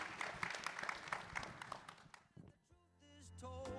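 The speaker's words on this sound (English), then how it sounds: "please join me in a round of applause for Chief Sauve and General Garrant" An audience at a space systems conference main stage applauds for two military leaders, a dense burst of clapping that thins and fades out partway through, followed by quiet and then a tonal musical sting.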